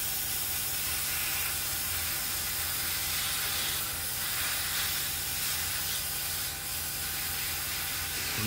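A steady, continuous spray hiss from a can or airbrush, unbroken for several seconds at close range, painting the undercarriage of a 1/48 scale P-51D Mustang model with metallic finish.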